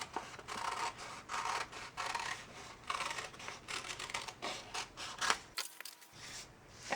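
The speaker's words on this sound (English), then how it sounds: "fold it in half here and then just cut like that" Scissors snipping through folded paper for a leaf wreath craft, a series of soft, quiet crisp cuts and rustles in a fairly even rhythm, with a brief pause near the end.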